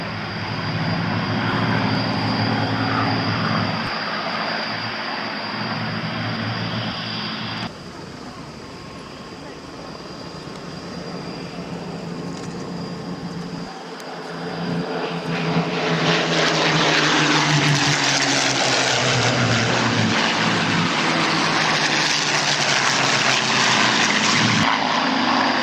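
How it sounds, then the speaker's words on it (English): Pink photo-reconnaissance Spitfire propeller engine at a Battle of Britain anniversary air show at Biggin Hill, a loud continuous droning roar that shifts in pitch and swells stronger toward the end, with commentary talk over it. "The pink Spitfire that's just turned onto the taxiway now."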